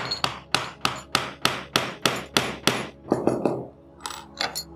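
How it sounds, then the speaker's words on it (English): Sharp, steady hammer blows drive a nail through a metal bottle cap about nine times in an even rhythm, then a few quicker, lighter taps follow, close and clear. "you could use a nail and a hammer to poke a hole through it"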